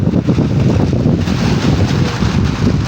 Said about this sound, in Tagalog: Tapos malakas ang hangin.